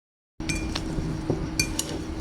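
A spoon mixes guava and kasundi with salt in a bowl, making a few light clinks against the bowl over steady, close stirring.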